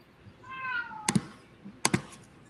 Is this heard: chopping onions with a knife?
no